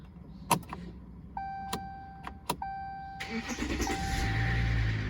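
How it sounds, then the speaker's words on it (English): A car engine cranks and fires up after a few electronic chimes and clicks, started with a newly programmed aftermarket key, then settles into a steady close idle. "Car starts with the Ilko lookalike."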